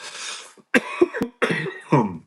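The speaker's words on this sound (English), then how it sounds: "Apologies for the cough. I've come down with a cold." A man with a cold coughs repeatedly in a few harsh, close bursts separated by short silences, with some throat clearing.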